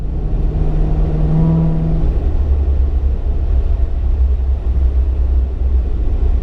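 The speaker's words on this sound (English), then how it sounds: "Unwinding out, we'll accelerate up to 4th gear." Race car engine running hard on a track lap, accelerating out of a corner up toward fourth gear; a steady loud low drone throughout, with a brief rising engine note early on before settling into constant rumble, no talking.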